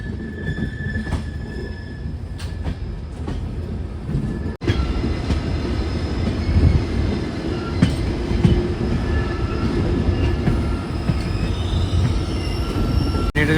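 The Karwar Express runs between Mangaluru and Yesvantpur with a steady loud rumble of carriages, wheels squealing on the rails and an occasional clatter over track joints, heard from inside the moving train.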